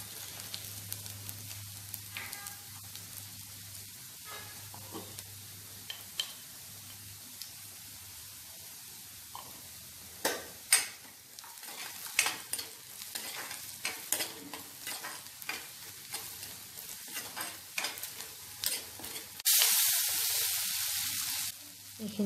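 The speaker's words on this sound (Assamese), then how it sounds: "অকণমান জলকীয়া গুড়ি, অকণমান মছলা দি তাতে খিচিৰিখিনি ফুৰণ মাৰি ল'ম" Khichdi frying with dried chilli powder, onion and spices in a pan, giving a steady close sizzle with repeated scraping and stirring clicks throughout, and a louder burst of hissing near the end.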